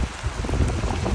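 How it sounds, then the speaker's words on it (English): Pouring rain hisses steadily across the main square of Sibiu, Romania, a broad, even wash of noise with wind buffeting the microphone. "It is pouring rain"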